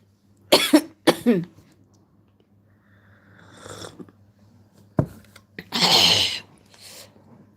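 Several harsh coughs come in bursts, two quick ones first, then a longer rasping fit after a pause, close and loud in a quiet room.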